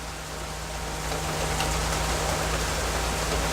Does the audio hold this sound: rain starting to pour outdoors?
yes